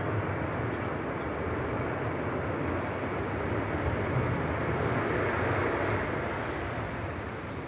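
A landing airliner touches down long and floats in gusty wind at Manchester Airport, giving a steady, loud broadband roar of engines and wind noise that holds evenly throughout without any voices.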